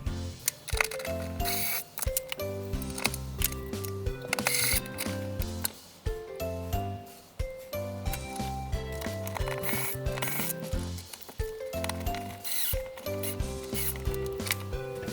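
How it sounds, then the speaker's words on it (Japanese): A screwdriver fastens screws onto wiring while a DIY automatic transfer switch for a portable power station is built into a home breaker panel. Quick ratcheting clicks repeat in short runs with brief pauses, close and fairly quiet. "あとはこれをネジで留めるだけです。"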